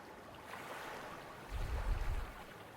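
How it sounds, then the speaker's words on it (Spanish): A river flows steadily in a quiet wood, a soft broadband rush that swells a little louder in the second half, with a faint breeze over it and no voices. "Oigo el río de fondo."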